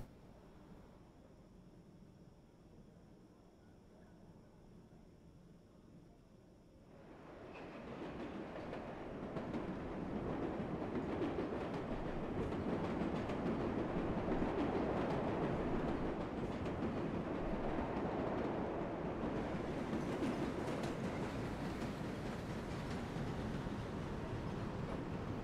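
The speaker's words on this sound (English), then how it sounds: "Got a train arriving just as I'm leaving." A New York subway train in a video game, the 7 local to Flushing, rumbles in, its roar swelling after a quiet stretch and holding steady with rattling rail noise, close by and loud, no voices.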